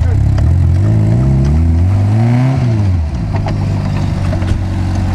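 An off-road 4x4 engine revs loud and close, rising and falling in pitch as the throttle is worked, then settling to a steady low drone, with no talking over it.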